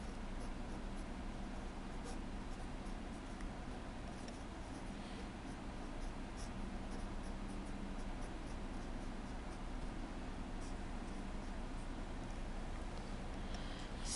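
Pen or pencil scratching steadily across paper while math is written out by hand, a close, quiet, continuous scribble under a constant background hiss with no talking.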